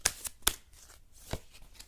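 Tarot cards being shuffled and drawn in a quick, close, dry burst of papery riffles and snaps, a few sharp flicks standing out over a short stretch with no talking.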